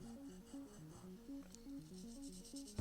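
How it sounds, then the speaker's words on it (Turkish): Steady rubbing and scraping of sanding against a surface of an old Mercedes under repair, repeated back-and-forth strokes up close, with a faint tonal hum underneath. "Aynen zımparalıyor."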